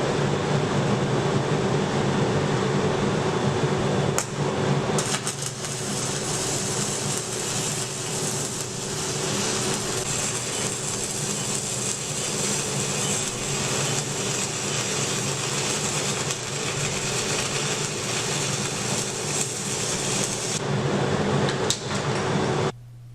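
A PCE PCO 1 particle counter runs steadily, measuring dust with its extraction pointing upwards. It gives a loud, constant whirring hum with airflow hiss that holds unbroken throughout and drops away at the very end.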